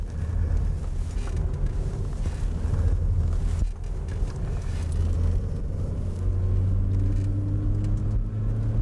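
Car engine rumbles steadily with rising and falling revs as the vehicle weaves, wind buffeting in the background.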